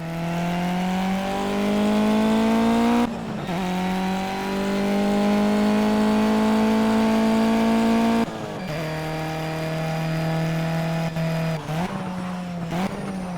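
Video game Mitsubishi Evo X FQ400 at Cadwell Park in Project Cars: a loud, steady engine drone with rising pitch through gear changes, brief dips between shifts, and rough crackling bursts from the center exhaust near the end.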